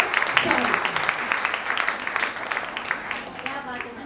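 An audience at an 80th birthday celebration event breaks into applause, a dense patter of many hands clapping at moderate loudness, with a voice talking over it.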